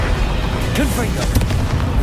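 A Confringo fire spell blasts in Hogwarts Legacy as a loud booming burst, followed by a few sharp pops and crackles amid dense game noise.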